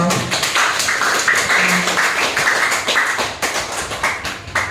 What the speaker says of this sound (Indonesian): Mari kita berikan aplaus untuk Juan.